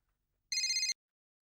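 A single short electronic telephone ring in a Hindi sitcom scene: one brief, bright warbling trill, close and clear, with silence before and after.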